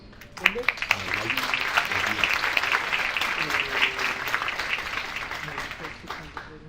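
Audience applause welcoming panelists at a financial planning event fills the room steadily for several seconds, with a few sharp claps at the start and some voices underneath.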